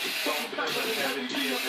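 A continuous hissing spray mist with brief dips as the nozzle is pressed, heard close up with a voice talking over it.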